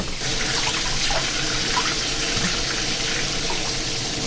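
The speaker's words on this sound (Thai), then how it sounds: "เราก็จะเอาสะเดานะคะขึ้นจากน้ำแล้วเราก็จะท ำการลวกค่ะ" Neem shoots are lifted out of a basin of water, giving a continuous close splashing and trickling of water, steady and fairly loud throughout, with no voices.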